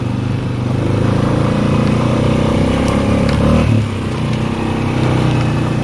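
An ATV four-wheeler rides a cleared trail on a homestead property, its engine droning steadily and loud and close throughout, with a brief surge and clatter near the middle and no talking.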